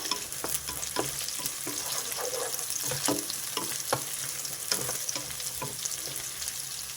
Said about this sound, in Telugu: ఉల్లిపాయలు వెల్లుల్లి చక్కగా వేగిపోయాయి